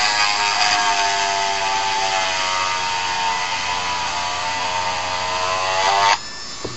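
A handheld power tool runs at its lowest speed while trimming ABS plastic armour, a steady close whine with grinding undertones lasting about six seconds before it cuts off abruptly.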